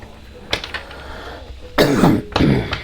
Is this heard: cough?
yes